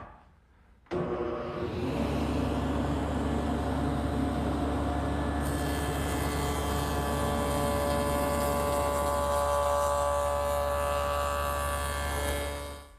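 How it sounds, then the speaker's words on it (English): A table saw fitted with a stacked dado head cutter, cutting a 3/8 inch wide by ½ inch deep rabbet, starts abruptly and runs as a loud, steady whine and roar close by, easing off at the end. "I'm using my stacked dado head cutter"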